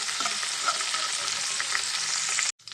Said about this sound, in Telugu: దీంట్లో కొంచెం కొత్తిమీర, కరివేపాకు, దీన్ని కొంచెం సేపు అయితే ఫ్రై చేసుకున్నామండి